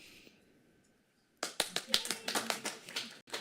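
Applause breaks out at a city council meeting after a quiet room and a short silence, a burst of several people clapping at close range that carries on for about two seconds.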